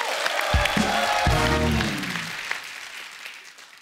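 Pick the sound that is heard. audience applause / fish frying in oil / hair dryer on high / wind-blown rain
audience applause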